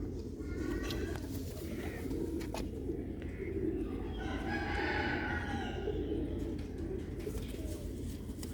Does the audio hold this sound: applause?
no